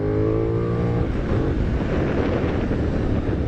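A Benelli 752S motorcycle engine revs hard in first gear on gravel and bangs into the rev limiter, its steady tone breaking into a rough, stuttering cut-out for the remaining seconds, loud and close.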